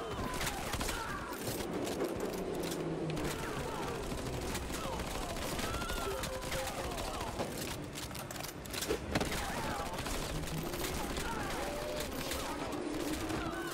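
Continuous gunfire and explosions in the brawler game Shaq Fu: A Legend Reborn, a steady loud rattle of shots over a rumbling game mix throughout.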